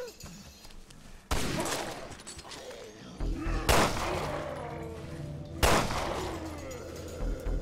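A shotgun booms three times at irregular intervals in the Resident Evil Revelations 2 video game, each blast sharp and loud with a ringing tail, over a low in-game background.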